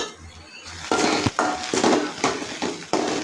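A spoon scrapes and clatters against a pan in short uneven strokes while goat brain fry is stirred, close and moderately loud.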